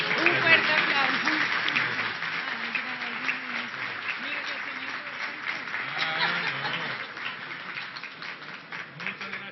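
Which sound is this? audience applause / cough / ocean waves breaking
audience applause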